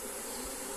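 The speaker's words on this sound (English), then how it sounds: "this bee here is fanning the pheromones of the queen up into the air" Honeybees fanning at the entrance of a hive box, a steady, even buzzing hum that holds at one level throughout with no talk over it.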